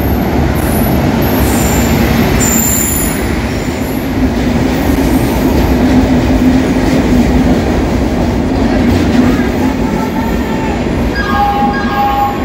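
A Bangalore–Howrah Duronto Express train at a station, loud continuous rumble and rattle of carriages with faint squeals and clicks, very close and sustained, no clear talk.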